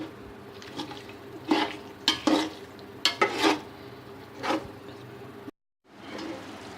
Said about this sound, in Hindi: फिर हम इसको अच्छी तरह चला लें हम।